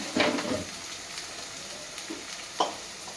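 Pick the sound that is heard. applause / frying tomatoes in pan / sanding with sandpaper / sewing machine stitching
frying tomatoes in pan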